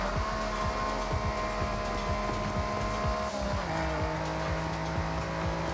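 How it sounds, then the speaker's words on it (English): A tiny five-gear Honda car driving in the video game Forza Horizon, its engine holding a steady buzzing drone with a gear change partway through, mixed with light tire noise and no talking. "we're gonna see how fast we get there in this tiny little Honda that for some reason has 5 gears"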